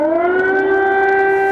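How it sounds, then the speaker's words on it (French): Civil defense air raid sirens wailing over Kyiv, a loud sustained tone holding steady and slightly rising, filling the whole moment with no voices. "Les habitants de la capitale ukrainienne se sont réveillés au bruit des sirènes d'alerte aérienne."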